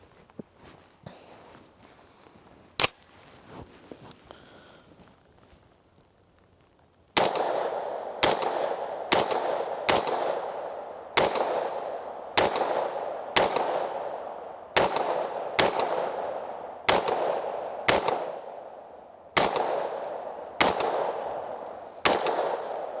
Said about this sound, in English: today we're out here in the rain at the range testing out our Extar EP9 Gen 2